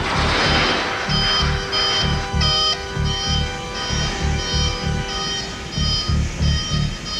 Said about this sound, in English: Kill those alarms!